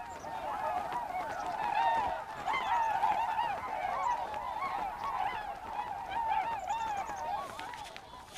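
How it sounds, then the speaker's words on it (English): A flock of migratory geese in the Alaskan wilderness near Denali honks continuously, many overlapping calls at moderate distance forming a steady chorus. "Migratory birds sense the turning season and begin their journey south."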